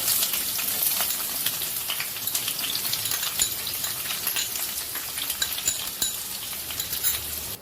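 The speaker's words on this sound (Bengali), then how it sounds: "পেঁয়াজ সুন্দর করে ভাজা হয়ে গেছে" Onions fry in oil with bay leaves in a pan, producing a steady, close crackling sizzle punctuated by scattered clicks and stirring scrapes.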